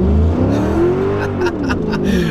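A Mercedes E55 AMG fitted with cheap Chinese exhaust headers drives in wet, cold conditions, its exhaust note rising and falling in pitch as the engine revs, loud and close.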